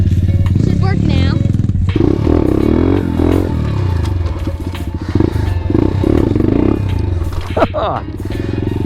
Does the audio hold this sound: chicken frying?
no